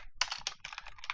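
Quick bursts of keystrokes on a computer keyboard as code is typed, close and crisp, in a rapid irregular rhythm of clicks with no voice over them.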